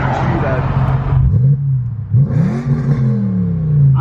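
Audi RS5 with a V8 revving hard and loud close by, a deep roar rising and falling in bursts with brief dips between revs, voices talking over it.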